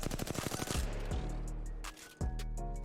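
Rapid bursts of R301 rifle fire in a video game shooting drill, a fast run of sharp shots followed by a couple of shorter bursts with brief gaps, loud and close.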